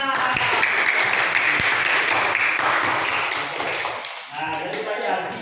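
Classroom applause from a group of students, a dense run of clapping with chatter mixed in, dipping briefly near the end before picking up again.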